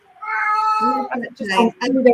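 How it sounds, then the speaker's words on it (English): A male cat meows close up in a long drawn-out cry followed by several shorter insistent meows, loud and clear with no other sound. "My cat telling me he needs to leave."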